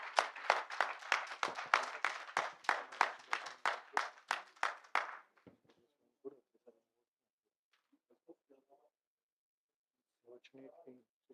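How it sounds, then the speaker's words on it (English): Audience applause at a hernia surgery summit session honoring an absent contributor, a dense burst of many hands clapping for about five seconds before fading to scattered claps and brief speech. "Please claps for him."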